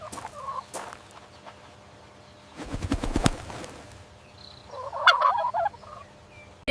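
A turkey gobbles in a rapid, rattling burst near the middle, followed later by a shorter warbling gobble, fairly close against a quiet background.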